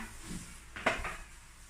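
A sharp knife slices ripe bananas into rounds on a kitchen surface, giving one or two soft, brief cuts in the middle of an otherwise quiet moment.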